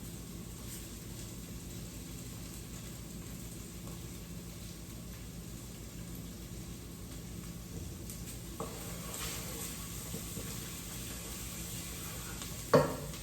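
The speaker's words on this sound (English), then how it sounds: "at this point I'm going to add my garlic. But I need to be careful because that'll fry really fast" Garlic sizzles with softened onions in a pan, a steady, even frying hiss throughout, broken by a few light clinks and a brief utensil clatter near the end.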